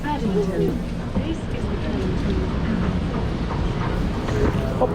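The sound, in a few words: crowded London Underground train running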